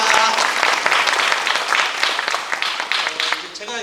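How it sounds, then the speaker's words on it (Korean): Congratulatory applause at a community residents' meeting in Hansol-dong, Sejong, a crowd clapping loudly and steadily before the sound thins out, with a voice briefly talking over it near the end. "축하의 박수 한번 부탁드리겠습니다"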